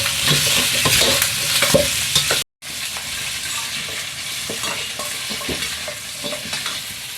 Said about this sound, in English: Stir-fry until the surface of the meat turns slightly golden